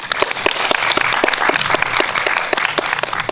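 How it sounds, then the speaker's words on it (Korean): A cinema audience at a Q&A screening in Lotte Cinema World Tower welcomes film director Yoon Ga-eun with loud, lively applause, distinct individual claps close by within a busy crowd of clapping. "큰 박수로 윤가은 감독님 맞이하겠습니다."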